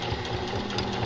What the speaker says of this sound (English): I'm just going to press my foot pedal.